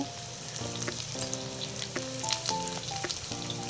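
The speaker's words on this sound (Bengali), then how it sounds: "কষে কষে আলুটা প্রায় সিদ্ধ হয়ে আসবে, তার জন্য এখানে আলুটা দিলাম" Potatoes sautéing in a pan for ghugni make a faint, steady sizzle with light stirring clicks, while a sustained melodic tone plays in the background throughout.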